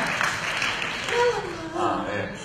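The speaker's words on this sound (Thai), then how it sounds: "ปรบมือดังๆให้กับผักบุ้งไฟแดงค่ะ" Applause from a press conference audience, a broad steady patter of clapping that continues under a speaking voice.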